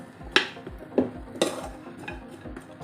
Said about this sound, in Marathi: आपल्याला तुपावरती खजूर हा छान परतवून घ्यायचा आहे